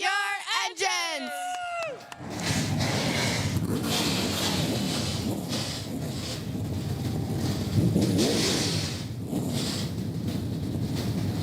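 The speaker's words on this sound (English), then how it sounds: "Ladies and gentlemen, start your engines!" ARCA Menards Series race cars fire up their engines at Elko Speedway, a brief amplified voice giving way to a loud, sustained, wind-buffeted roar of many engines that swells and surges steadily.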